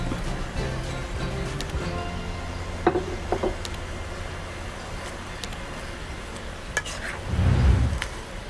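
Pechay leaves stirred into a pot of mushroom kare-kare, a steady soft bubbling simmer with occasional light utensil scrapes and clicks against the pot, building to a brief louder stir near the end.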